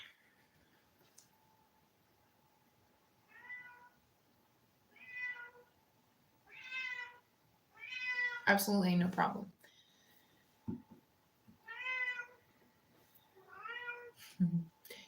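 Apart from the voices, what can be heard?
cat meowing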